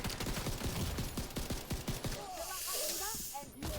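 Rapid pistol gunfire in The Division 2 video game crackles in fast bursts for about two seconds, followed by a hissing, whistling game effect, with a voice speaking over the action.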